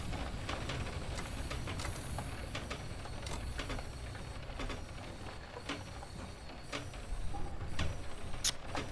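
Steady rumbling roll of a train cab car in a train simulator game (Train Sim World 2022, Rodachtalbahn line) with clicking, rattling track noise and a faint hiss, continuous and moderately loud throughout.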